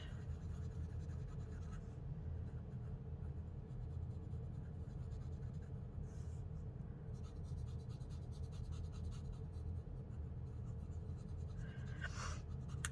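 Stampin' Blends alcohol markers coloring and blending on paper, a steady close, faint scratchy rubbing of marker tips with a few brief sharper strokes, no one talking.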